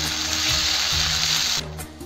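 Masala with ginger-cumin paste fries in a pan, a close, loud hissing sizzle with a few soft clinks beneath, cutting down abruptly to quieter crackling near the end.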